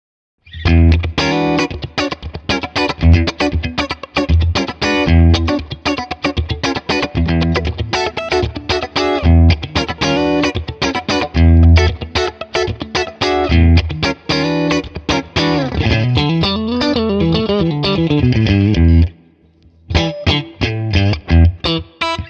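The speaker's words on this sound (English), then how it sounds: "it's working very, very well as kind of like a funk type of machine" Funky electric guitar through a Neural Tone King plugin preset plays rapid, choppy rhythmic strums and muted chord stabs, with a bending phrase near the end and a brief pause before the playing resumes.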